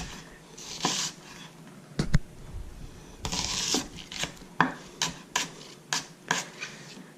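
A kitchen knife dices an onion on a cutting board in a series of uneven, close chopping taps and scraping strokes, quiet and spaced out, with no one speaking.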